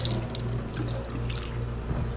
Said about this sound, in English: so let me wash that stuff off.